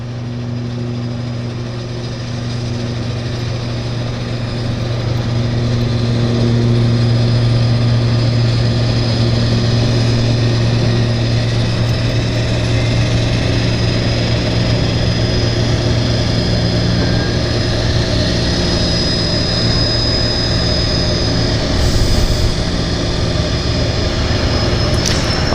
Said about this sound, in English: we got propellers turning, and we got a Twin Otter on approach